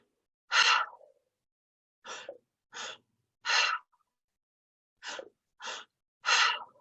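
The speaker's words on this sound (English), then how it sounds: "So it's a 2-part inhale and a 1-part exhale." Open-mouth pranayama breathing: seven sharp, airy breaths in a clear pattern of a longer breath followed by two quick short ones, repeated, with a final long breath. They are close and isolated against near silence.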